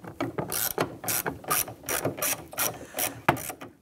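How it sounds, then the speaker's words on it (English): A ratchet with a T30 Torx bit and extension backs out the bolt holding the rear door handle on a 2002-2008 Dodge Ram 1500, giving a fast, close run of sharp clicks in quick bursts. "Using a T30 Torx bit and our extension, we're going to go ahead and remove the bolt holding the handle in place here"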